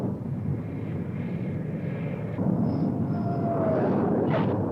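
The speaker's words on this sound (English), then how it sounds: "When the planes return from their mission" Military jet aircraft such as A-4 attack planes returning to a carrier from a mission, a loud sustained engine roar that swells partway through, with higher whining tones over the rumble.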